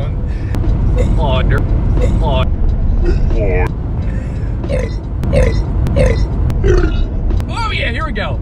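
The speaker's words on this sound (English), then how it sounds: "I just burped in reverse." Loud, close burps during a burping contest, a run of about a dozen guttural belches in fairly quick succession with rough, croaking tails, some with voiced grunting.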